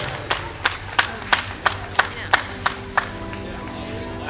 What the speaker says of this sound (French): Avancez et on applaudit.